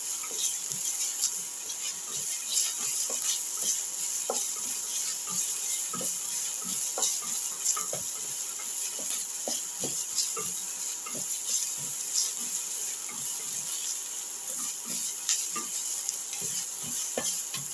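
Cabbage sautéing in a pan for a lamb and split chickpea stew, a steady soft sizzle and hiss with scattered scraping clicks of stirring throughout, no voices.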